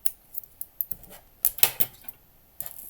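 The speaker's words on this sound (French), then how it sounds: "Donc là, on peut couper." Scissors snipping crochet yarn at close range: several small sharp cuts in an irregular rhythm, with light handling noises in between.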